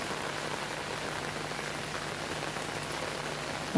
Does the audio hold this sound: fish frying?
no